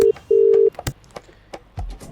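Phone call tone, two loud steady electronic beeps in quick succession, then brief clicks and handling noises.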